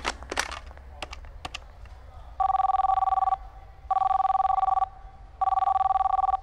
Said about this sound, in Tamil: சாரி, அவர் ஃபோன் எடுக்கல.